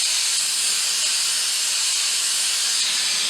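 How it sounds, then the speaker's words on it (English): A continuous, loud, bright hiss runs unbroken from a torch heating a billet of stacked copper quarters, with no talking; any crackling from the metal is not distinct beneath it. "I'm starting to get some bubbles and some crackling out, some different color change of the copper."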